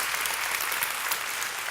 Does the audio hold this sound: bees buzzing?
no